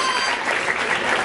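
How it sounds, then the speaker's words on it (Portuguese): Crowd applause at a freestyle rap battle, a brief, dense roar of clapping that stays loud and even throughout. "Palmas."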